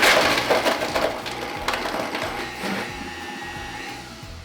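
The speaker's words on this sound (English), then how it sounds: "we will put this all in and just blend it up" A kitchen blender whirs and grinds through raspberries for a frosé mocktail, starting loud and crunchy, then settling into a steadier, softer churning whir.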